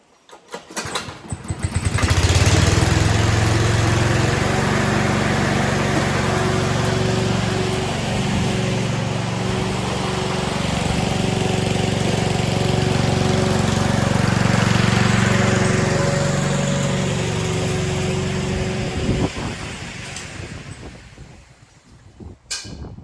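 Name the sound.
serviced lawn mower engine running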